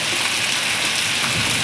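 Heavy rain pours down steadily around a house courtyard, a dense, loud, even hiss of drops on surfaces with no voices.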